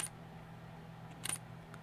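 Olympus E-M5 Mark III mirrorless camera firing its shutter, one faint, soft click near the start and another a little past the middle, over a low hum.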